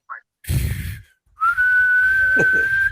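A voice imitates Colombian football fans whistling in a stadium crowd, giving one long, steady, loud whistled tone after a short chirp and a burst of breathy noise, with brief talking under the end.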